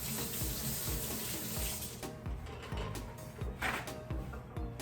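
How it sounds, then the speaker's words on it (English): Tap water runs into a sink while green onions are rinsed under it, a steady close hiss that shifts and splashes as the stalks move through the stream, alone without speech. "So I'm going to go ahead and give this a rinse off."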